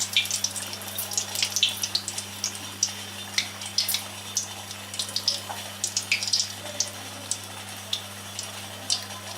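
Bread frying in oil over a low flame, a kaja-style bread roll sweet, giving a steady scatter of light crackles and pops over a faint low hum, with no talking.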